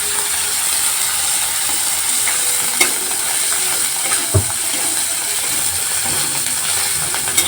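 Spiced potato filling for singara, with ginger paste and coriander leaves, stirred in a pan: soft scraping and steady hiss with a few sharper clicks of the spoon against the metal, close and fairly quiet, with no talk.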